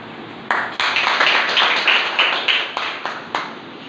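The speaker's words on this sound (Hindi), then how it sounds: "जोरदार तालियों से स्वागत" A village gathering at a school function claps to welcome the village head, a scattered crowd of hands with sharp individual claps rising and falling over a few seconds, moderately close and without speech.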